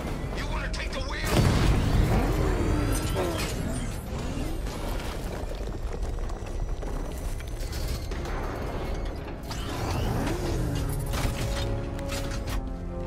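A car in Batman Arkham Knight is driven roughly, its engine noise broken by mechanical clanks, booms and crashing impacts, with voices talking over parts of it.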